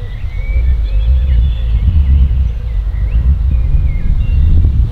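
Wind buffets the microphone on a golf course, a loud, low, rumbling roar that rises and falls continuously, with faint birdsong above it.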